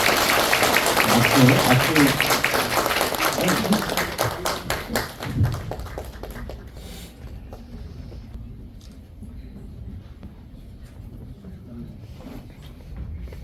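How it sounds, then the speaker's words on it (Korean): Congregation applause in a church during an elder ordination service, dense clapping that thins into scattered individual claps and fades, with voices and low murmuring underneath. "박수 주세요"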